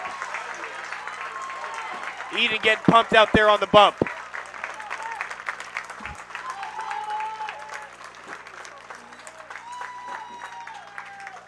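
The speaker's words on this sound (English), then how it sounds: "Crowd on its feet." A baseball crowd at a high school section championship game rises into cheers and clapping, a burst of loud applause that fades back into a lively murmur while an announcer talks over it.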